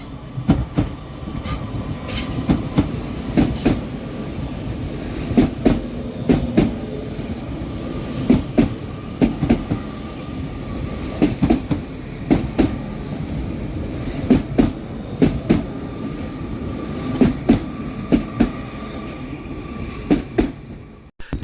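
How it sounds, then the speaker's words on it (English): Two Northern Class 331 units, 331016 and 331020, roll into Manchester Piccadilly on the 17:33 Manchester Airport to Blackpool North service, with a steady rail rumble, a regular clickety-clack of wheel thumps and occasional wheel squeal. "Arriving next into the station is 331016 and 331020 with the 1733 Northern service from Manchester Airport through to Blackpool North"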